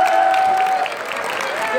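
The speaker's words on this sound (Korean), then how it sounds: "다시 한번 박수 부탁드립니다" An audience at a forum's founding ceremony in Korea gives a brief burst of applause, dense clapping from many hands heard up close for just under two seconds.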